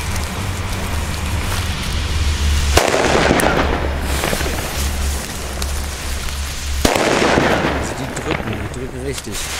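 A Cobra 6 BP Silber firecracker set off on a street during New Year's Eve, with two sharp, loud bangs several seconds apart over constant crackling from other fireworks and distant explosions in the background.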